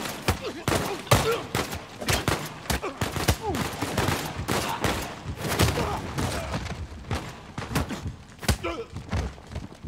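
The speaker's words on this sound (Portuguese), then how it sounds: "Depois de começarmos aqui o tiroteio" Rapid bursts of gunfire crackle and thud continuously in an Uncharted 4 video game shootout, with dense overlapping shots and impacts, loud and chaotic throughout.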